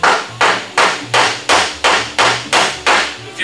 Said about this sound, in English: See how I'm using that hammer? See, that's how a body hammer is.